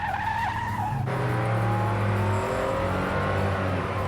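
A Porsche sports car slides through a corner with tires squealing over a loud, continuous engine roar that shifts pitch partway through as the revs change, close and sustained without a break.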